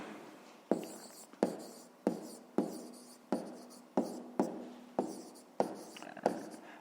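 A pen writes on paper in a row of about nine quick, evenly spaced strokes. Each stroke is a crisp scratch that fades out, close and clear, with no voice over it.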